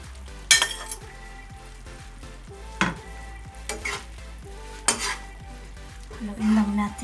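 Marinated squid and broccoli being stirred in a hot pan, with a steady sizzle and frying hiss under repeated scrapes and clinks of a utensil against the pan, close and moderately loud, no talking.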